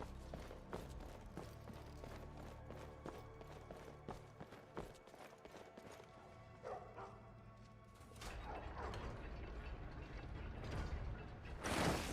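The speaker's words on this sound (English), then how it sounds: "Yap, yap, yap. Oh, the dog." A dog yaps in Skyrim amid clanking mechanical game sounds and background music, the barks short and mid-distance rather than prominent.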